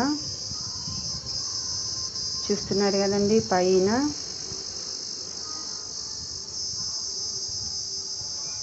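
A large fly-like insect high in trees gives a loud, steady, buzzing drone through the whole stretch, with a person speaking briefly partway through.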